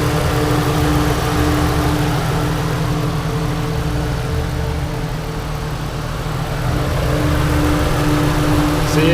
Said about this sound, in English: So this is a 13-year-old motor. This is the rev up.